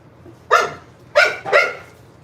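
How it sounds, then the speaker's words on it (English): A female dog gives a playful bark, three sharp close barks, one alone and then a quick pair, loud against a quiet background. "That's a play bark for her."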